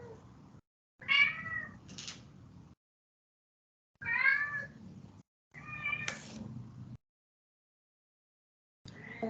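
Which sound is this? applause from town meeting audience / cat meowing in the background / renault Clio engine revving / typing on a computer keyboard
cat meowing in the background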